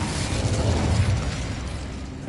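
The Incendio fire spell from Hogwarts Legacy bursts into a loud, dense whoosh of flame that roars evenly before tapering off.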